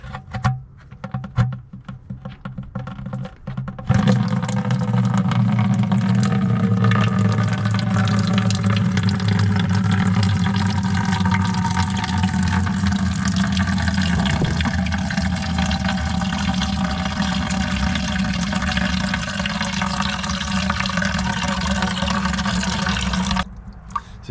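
A loud, steady gush of fluid pours from the transmission drain plug of a WW2 army truck for about twenty seconds after a few clanks, then stops abruptly.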